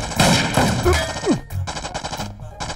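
Gunfire in a dramatic film scene, with several loud rapid shots and impacts mixed with sound effects and a groan, all densely layered over a short burst.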